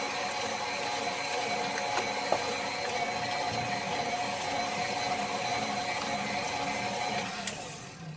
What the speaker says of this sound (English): You've never seen the mixer on, huh?